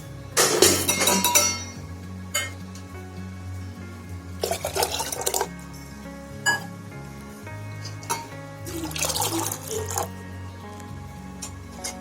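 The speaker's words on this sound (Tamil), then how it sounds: "இப்போ எல்லாத்தையும் நல்லா மிக்ஸ் பண்ணிட்டோம்னா நம்மளோட பானி தண்ணி ரெடி ஆகிடும்" A spoon clinks against a bowl while pani puri water is stirred, with light wet stirring noises in several separate bursts over a low background hum.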